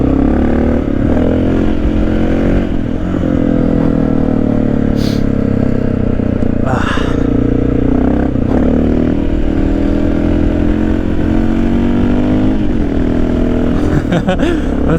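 A Honda XR650L motorcycle with a freshly rebuilt engine running a little hot roars steadily while being ridden, the engine note rising and falling through gear shifts during a wheelie, loud and continuous throughout.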